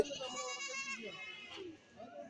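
A goat bleats at a Kerala livestock market where a mother goat and her kids are for sale, one clear, close, wavering bleat followed by a shorter second cry.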